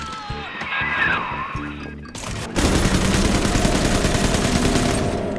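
Gunfire rings out in the video game BioShock. Low rumbling and scattered sounds give way to a dense, loud, sustained barrage of rapid shots that fills the rest of the clip.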